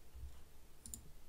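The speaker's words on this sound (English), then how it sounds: "So if I click on this one" A single faint, crisp computer mouse click sounds in a quiet room, with nothing else audible.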